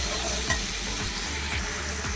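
Four whole dried chillies frying in oil in a pan, a dense close sizzle with a few scraping stirs, no voices.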